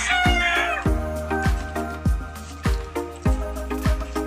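Loud, repeated chicken and rooster calls on a small farm in a regular rhythm, roughly one every half second, close by and clear, with a long drawn-out rooster crow at the start.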